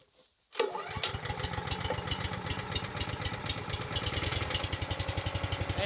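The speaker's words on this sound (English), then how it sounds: "we'll just let it run at low throttle for a minute and warm up" A Power Split log splitter's gas engine starts after a brief quiet moment and then idles at low throttle. The close, steady chugging runs evenly to the end with no talking.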